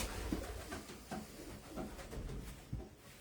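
Racing pigeon cooing softly in a loft, a few faint low coos over quiet background rustle with no talking.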